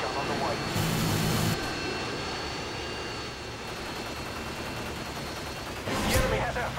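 An aircraft engine drones steadily through the Favela map in Call of Duty Modern Warfare 2 as an emergency airdrop arrives, with bursts of gunfire at the start and end and voices over the roar.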